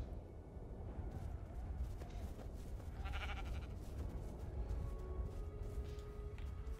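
Sheep bleating from a farm animal spawn area in the Minecraft: Story Mode video game, heard briefly amid a dense, steady game soundscape of ambient noise and other effects.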